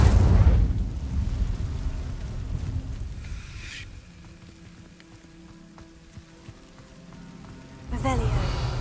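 A fire spell cast in the Hogwarts Legacy game on PS5 sounds as a loud whooshing, crackling burst at the start, a quieter rumbling stretch, then a second forceful burst near the end.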